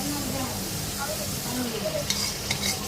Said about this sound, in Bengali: পেঁয়াজ আর কাঁচামরিচ ব্লেন্ডার করে রাখছি সেটা দিয়ে দিলাম তেলের মধ্যে দিয়ে ভালো করে ভেজে নেব